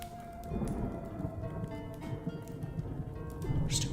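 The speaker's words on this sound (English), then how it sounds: "Stupid storm sounds in this one." Steady storm ambience with rain hissing throughout and low thunder rumbling beneath it, swelling slightly near the end, at a moderate level with no voices.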